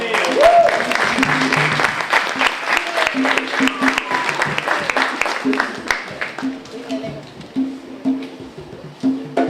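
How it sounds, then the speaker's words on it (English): Audience applause at a Kwanzaa community celebration, a dense sustained patter of many hands clapping that thins and fades over several seconds, with a voice faintly audible at times. "So can we give a round of applause for Brother"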